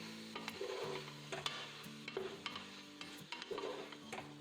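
Chopped tomatoes are tipped into a pan and stirred, producing a quiet sizzle with repeated soft scraping and clinking strokes of a spoon against the pan, and no voices.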